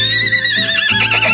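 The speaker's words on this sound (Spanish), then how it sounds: "Y relincha con energía." A horse whinnies loudly and close by, a wavering, high-pitched neigh that trembles through its short length.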